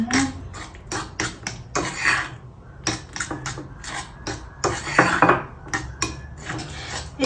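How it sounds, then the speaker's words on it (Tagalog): A utensil stirs milk into a breakfast mixture with a banana in a bowl, giving a run of close, irregular clinks and scrapes against the dish with short pauses in between and no voices. "Pero lagyan pa natin siya ng milk. Ayan, haluin natin siya."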